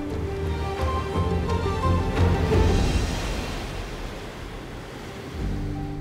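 Waves breaking on the shore at Pantai Penyi beach on Pulau Aceh, a steady close wash of surf with a swelling roar in the middle and a low rumble returning near the end, mixed with some wind noise and no voices.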